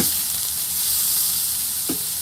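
A sirloin steak sizzling in a hot pan, a loud, steady broadband hiss throughout with a brief burst of crackle near the end as the meat is shifted.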